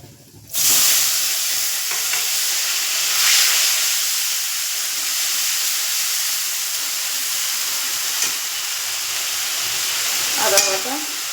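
Onion paste hits a hot pan with spices for a katla fish malaikari, bursting into a loud, continuous sizzling hiss that runs steadily throughout with a few faint stirring clicks.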